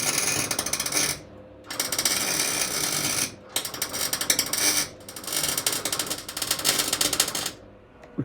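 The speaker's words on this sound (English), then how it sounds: "we're just going to be running the welder to weld up this patch here" A welder runs in several bursts on a patch in the rusty body of a Mercedes R107, powered from a portable battery, crackling and buzzing loudly up close, with short silent gaps between the runs.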